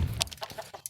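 An Isabrown hen clucking close by, a quick run of soft, choppy clucks and a sharper high note near the end, over light background noise.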